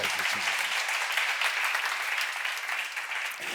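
Steady, dense applause from an audience at a church seminar, filling the whole stretch at an even level and easing slightly toward the end, with no voices over it.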